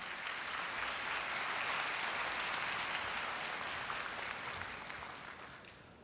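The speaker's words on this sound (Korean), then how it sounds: "염재호 총장님을 뜨거운 박수로 맞이해 주시기 바랍니다" A large audience applauds steadily to welcome the university president at Korea University's 2016 entrance ceremony, a dense, continuous wash of clapping that holds strong and then gradually thins toward the end.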